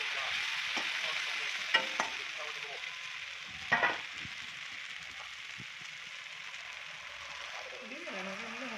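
Chopped tomatoes fry in oil in a pan for an Assamese kasu thuri (taro stem) curry, a steady soft sizzle broken by a few scraping stirs, with a brief voice near the end.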